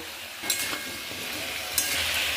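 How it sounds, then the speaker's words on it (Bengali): Chopped taro frying in hot oil with salt and turmeric, a close, continuous sizzle with a few scraping stirs of a utensil against the pan. "স্বাদ মতো নুন আর হলুদ দিয়ে ভালো করে ভেজে নেব"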